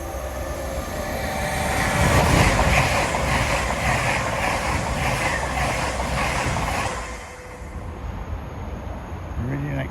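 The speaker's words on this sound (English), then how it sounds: "Meridian accelerating up the gradient after an 80 mile an hour slow in at Toadmore Tunnel" A Class 222 Meridian diesel train accelerates up a gradient after a slow stretch near a tunnel at Sawmills near Ambergate, passing close by with loud, sustained engine and rail roar that eases slightly toward the end.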